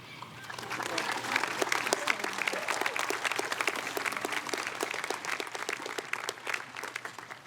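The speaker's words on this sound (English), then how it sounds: "Let's give another round of applause for our music programs, our band, and our choir" Sustained applause from a high school graduation audience, honoring the school band and choir's music programs; dense, steady clapping fills the hall throughout with some crowd noise mixed in.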